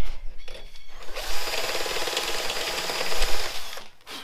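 A power drill fitted with a stepped Christmas tree bit enlarges bolt holes in a motorcycle rear mudguard, whirring steadily for a few seconds after brief start-up clatter, close and loud, then spinning down.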